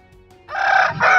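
Bangkok fighting roosters at a chicken market in Makassar: one loud, close crow followed by the start of a second, with faint background clucking before it.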